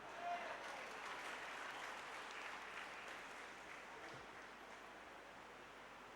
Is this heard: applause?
yes